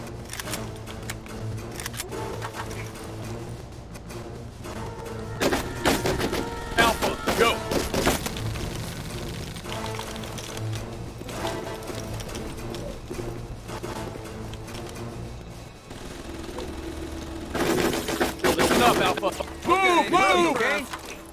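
Bursts of rifle fire crack out in the tactical shooter Full Spectrum Warrior, coming in clustered volleys amid soldiers' shouted radio chatter and other battlefield noise.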